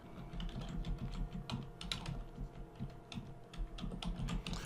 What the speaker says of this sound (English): First, let's type some text.